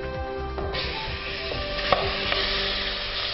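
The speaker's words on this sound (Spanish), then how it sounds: "Procedemos a sellar la carne." Lamb meat searing in curry-infused oil in a pan, with a steady close sizzle and frying crackle plus occasional stirring scrapes and clinks, no voices.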